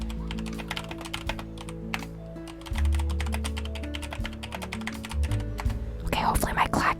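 Rapid clacking of a computer keyboard runs throughout, fairly close and steady, with a low hum underneath and a brief whisper-like voice near the end.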